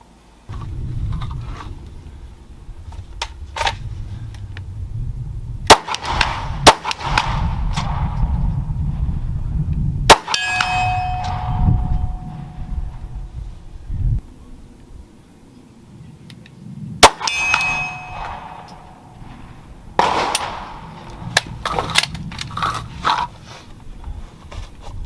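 Pistol shots ring off steel targets at 50 yards, fired through XS DXT2 Big Dot night sights: a few sharp, spaced cracks, each followed by a faint metallic ping from downrange, over a steady outdoor background.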